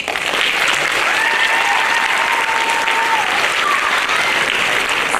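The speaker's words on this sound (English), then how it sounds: "And you can clap for each one, because I think this is a tremendous accomplishment." Audience at a fifth grade graduation applauding as medals are handed out, steady loud clapping from a large crowd throughout, with no voices over it.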